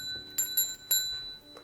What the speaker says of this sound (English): The food bell.